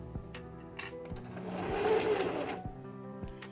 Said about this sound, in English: I'm stitching and we reverse as usual